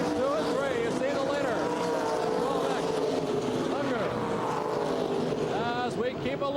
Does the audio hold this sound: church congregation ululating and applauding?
no